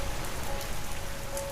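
Dense, steady rain pours down continuously over a forest at night, a heavy wash of drops with no other sounds.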